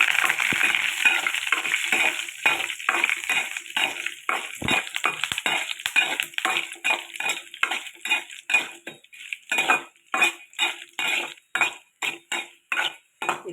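Pigeon pea chutney goes into a hot tempering in a pan, setting off loud sizzling and frying, followed by a run of sharp, rhythmic clinks and scrapes of a utensil stirring against the pan.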